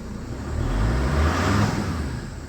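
A Mercedes Sprinter van engine with a glow plug warning light fault is revved up, a steady close rumble that swells to a peak and eases slightly, heard alone without speech.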